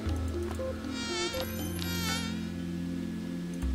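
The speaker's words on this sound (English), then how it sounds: "Collect all the mosquitoes." Wavering, whiny mosquito buzzes from The Tiny Bang Story rise in a couple of overlapping bursts early on, loud and close, then fade back into the game's steady background music.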